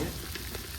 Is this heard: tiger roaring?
no